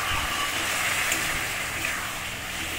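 A little water hits a hot pan of ground spice paste cooking with okra and prawns, giving a loud, close, continuous steamy hiss and sizzle that eases slightly toward the end; no talking.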